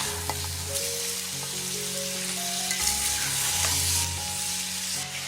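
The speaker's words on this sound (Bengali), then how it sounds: "সামান্য একটু জল দিয়ে দেব জলটা চারিপাশ ঘুরিয়ে দেওয়ার চেষ্টা করবে" Chicken pieces fry in a pan with a little water added, giving a continuous close sizzle and bubbling crackle with occasional stirring scrapes and no voices.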